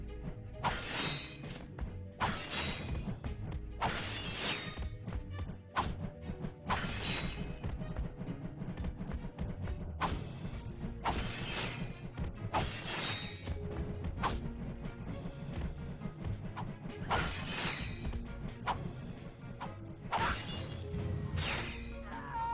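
Crates smashed one after another in the video game Ratchet & Clank 2, with repeated sharp crashes, wooden breaking bursts and mechanical clanks over steady game background sound.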